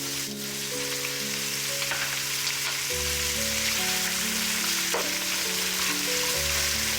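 Pork ribs with liver spread simmering in a pan for Filipino kaldereta, a continuous close sizzle and bubbling under steady background music, with no speech.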